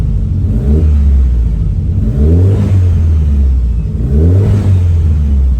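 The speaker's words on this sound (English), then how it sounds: "If we just flip the gas here," A 1988 Mitsubishi Starion engine, running rich, revs up twice as the throttle is blipped, each loud rising rev falling back to a steady, close idle rumble.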